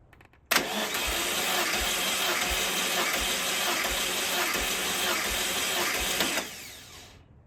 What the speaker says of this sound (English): You just want to be able to crank the engine to have it make some compression in the cylinder